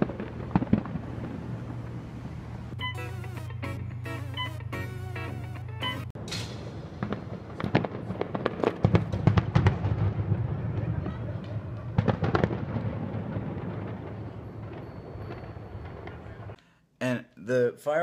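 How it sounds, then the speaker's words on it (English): Fireworks exploding at an America Day celebration, a dense series of pops, crackles and booms with irregular bursts throughout, heard alongside people talking and background music. "The fireworks have already started."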